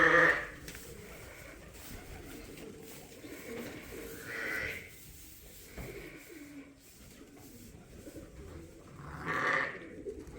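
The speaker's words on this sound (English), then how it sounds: "that ewe that was wanting to steal is right now lambing" Ewe bleating while lambing on a sheep farm, a few loud bleats at the start, middle and end over a low rustling farmyard background.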